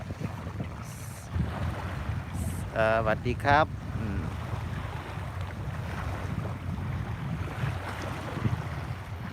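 Wind and rolling waves fill a seashore scene with a steady broad rush, up close with some microphone buffeting, while someone briefly speaks a greeting partway through.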